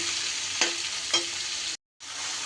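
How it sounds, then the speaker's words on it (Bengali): Constant close sizzle of onions frying in a pan, with two light scraping taps of stirring and a brief gap. "যতক্ষণ না পেঁয়াজটা আমার বেশ বাদামি রং আসছে ততক্ষণ আমি পেঁয়াজটাকে ভেজে নেব"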